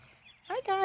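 Fat meat chickens give a short, close cluck, a brief burst of fowl sound right after a moment of near silence.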